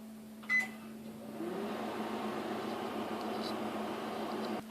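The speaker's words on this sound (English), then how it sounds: "Set your microwave for 8 minutes. Put your mixture inside." A microwave oven cooking peanut brittle hums steadily, close and fairly quiet, with a brief clunk near the start and a faint tonal drone throughout.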